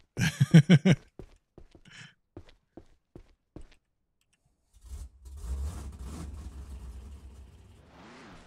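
A video game truck's low engine rumble rises and holds steady, a deep revving drone after a run of sharp thuds and clicks, fairly loud and close.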